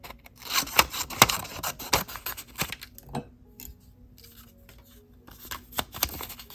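Sharp, close scissor snips cut a paper sticky note in half, a quick run of crisp cuts with paper rustle, then quieter handling and a few last snips.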